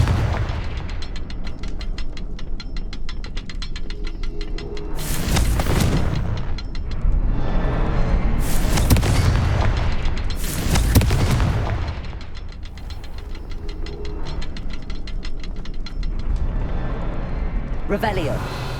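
Booming blasts from the Confringo fire spell in Hogwarts Legacy at Rookwood Castle, several loud explosive bursts over a continuous rumbling game soundscape, with a voice speaking over parts of it.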